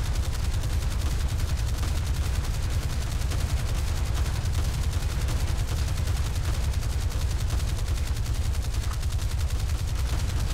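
Dense, continuous rapid-fire gunfire from a video game battle, loud and close with heavy low rumble, hammering steadily without pause throughout.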